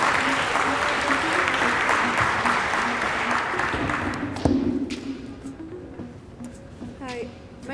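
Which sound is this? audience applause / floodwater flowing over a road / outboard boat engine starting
audience applause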